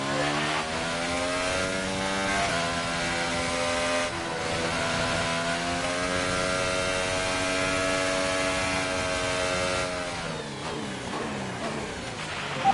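A Formula 1 race car engine running at sustained high revs through a race, its harmonic whine rising and falling as it shifts gears, loud and continuous with no talking.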